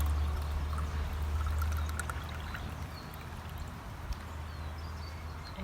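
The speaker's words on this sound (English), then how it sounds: "I'm going to just pour some water" Water is poured into a glass jar, a close, continuous rushing pour that eases into a softer, steady trickle, with no talking.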